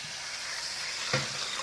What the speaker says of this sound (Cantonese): 雞蛋煎蝦仁啊！